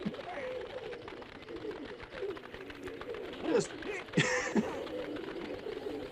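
Pigeons coo softly in a martial arts film scene from Flying Guillotine, low warbling calls under a voice and mechanical clicking, with a couple of sharper bursts near the end.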